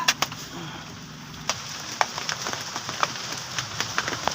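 Rain falls outdoors with scattered sharp drops and taps landing on a nearby surface over a soft background hiss, fairly close and irregular.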